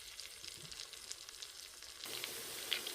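Onions sauté in bacon grease inside an Instant Pot, a quiet steady sizzle with crackling that grows brighter partway through.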